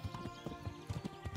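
Horse hooves clip-clopping in Kingdom Come: Deliverance, a quick irregular run of soft thuds fairly close by, quiet overall, with no talk.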